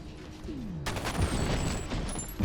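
A night vision rifle fires in F.E.A.R. Perseus Mandate, producing a burst of sharp shots that starts abruptly after a quiet moment and continues loudly, with a couple of heavier thuds.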